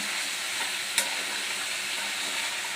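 Cabbage, beans, carrot and green peas fry in a pan, a steady close hiss of sizzling with a single sharp clack of a utensil against the pan.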